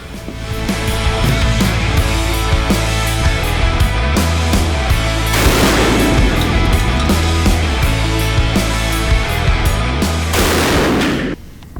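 Repeated loud, close blasts from a Benelli M4 semi-automatic shotgun fired in quick succession, each booming report ringing out over a continuous dense roar of gunfire.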